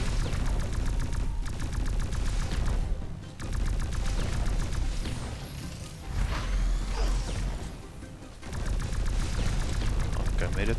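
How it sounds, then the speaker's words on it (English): Sustained rapid gunfire shooting down incoming missiles in the top-down shooter tower defense game X-Morph Defense, dense and continuous with brief dips, mixed with mechanical game effects and booms. "it looks like I can shoot down the missiles"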